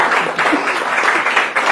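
An audience applauds at a lecture on decision making and problem solving, a steady loud wash of many hands clapping, close and continuous.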